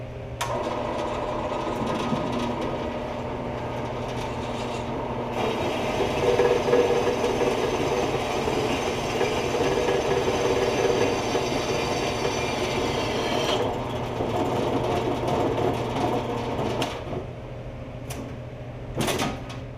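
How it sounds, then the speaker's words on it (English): An electric welder fuses a nut onto the end of a generator rotor from an 8hp Briggs & Stratton estate-sale generator, giving a steady buzzing crackle that runs close and continuous for most of the stretch before cutting off near the end. "I'm going to weld this nut to the end of the rotor"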